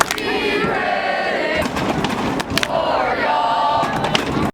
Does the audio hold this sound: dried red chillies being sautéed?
no